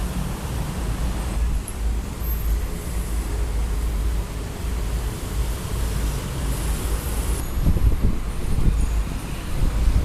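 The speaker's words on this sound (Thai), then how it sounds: "ลมเย็นดีจังเลย" Cool wind blows steadily across a skywalk leading to BTS Samrong station in Samut Prakan, producing a continuous broadband rush of wind noise on the microphone that swells slightly near the end.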